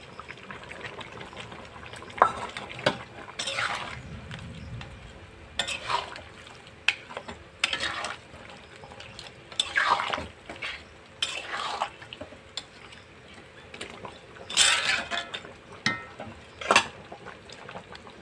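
Fried fish heads go into a simmering potato and pointed gourd curry, with scattered clinks of a spoon against the pan and soft bubbling underneath, quiet overall with bursts of stirring.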